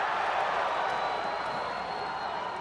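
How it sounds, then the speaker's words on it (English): A crowd cheers at the 2013 World Judo Championships in Rio de Janeiro, a steady, dense roar of many voices rising from a nearby mat and holding at an even level throughout the arena. "I think you heard a big cheer from the crowd, that coming up from mat number one"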